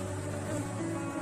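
Honey bees hum in a steady, dense drone around an open apiary hive being worked, a continuous close buzz with no pauses over the whole short stretch.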